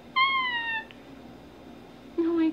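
A house cat gives two clear meows, one early and one at the end, separated by a quiet pause with faint room noise.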